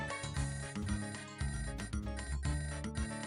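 A telephone ringtone plays during an outgoing call: a faint, repeating melodic ring pattern with steady pulses and no voices.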